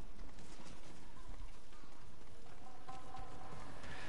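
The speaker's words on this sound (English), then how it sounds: "we'll get the horse and we'll ride all the way" Horse galloping in the video game Ghost of Tsushima, a steady run of hoofbeats heard up close, with a busy layer of background game sound around it and no talk.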